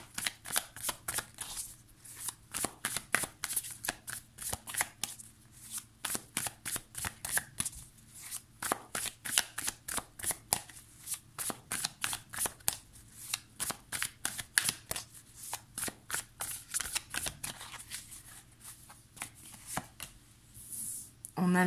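A deck of The Light Seer Tarot cards being shuffled continuously, with rapid rhythmic riffling flutters repeating close and steady for about twenty seconds.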